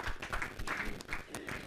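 Audience applause welcoming a poet on stage at a Hindi kavi sammelan poetry gathering, a steady burst of crowd clapping with no talk.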